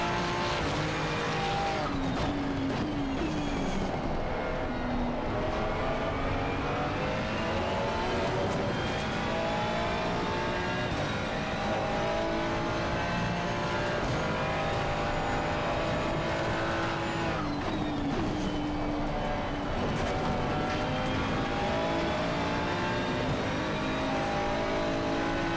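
A McLaren Artura race car at Donington Park in a sim racing game, engine droning steadily and loudly throughout, pitch rising and falling through gear changes with brief tire scrub while overtaking.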